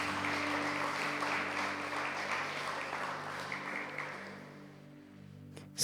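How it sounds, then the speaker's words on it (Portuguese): A church congregation claps together in praise during a service, a dense, fairly soft wash of hands with a low steady hum beneath, fading slightly toward the end. "Louve ao Senhor com as suas palmas, meu irmão."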